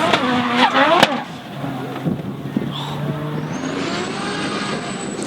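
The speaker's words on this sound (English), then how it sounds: "The Gulf Force Pro Skyline chasing hard on the Nexon Tyres C35 Laurel." A Nissan Skyline drift car chasing a C35 Laurel on the Taupo track during a D1NZ drifting round, engines droning and revving over a loud, steady roar with rising pitch sweeps and tyre noise.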